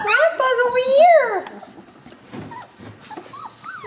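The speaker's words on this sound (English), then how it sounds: "There's a great pile of puppies." Three-week-old Chinook puppies whimpering and yipping in a pile, high whiny cries close by at first, then softer squeaks with a person talking nearby.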